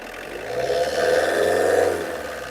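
A car engine revving up in a workshop, rising to a steady loud whir that holds for about a second and then eases off, with no talking.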